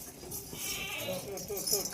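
A goat of a pink-coated Rajanpuri breed bleats close by at a Pakistani goat farm, with a couple of short wavering calls heard under a voice.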